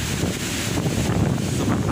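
Strong afternoon wind gusts in Wangon roar and buffet continuously against the microphone, a dense rumbling whoosh with no voices.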